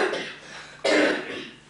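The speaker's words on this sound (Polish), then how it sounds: "No, że masz kaszel, to na pewno, to słychać." A young child coughs nearby, one softer cough followed by a sharper, louder one that trails off, indoors with no talking.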